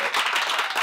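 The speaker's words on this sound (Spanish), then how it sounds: "Ese es un aplauso." Short burst of dense clapping from a gathered community audience honoring members who received training, bright and close, cut off after under a second.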